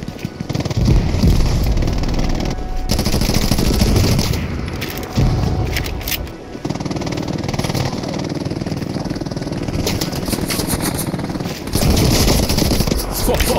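Video game gunfire: loud sustained automatic bursts with brief pauses in between, continuing over most of the stretch, with a little talk in the background.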